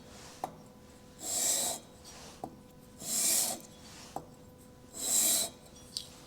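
Metal rasps by hand as the bottom surface of a Stihl 041 chainsaw crankcase is trued, three slow, even strokes, each set off by a small tap, close and clear in a quiet room.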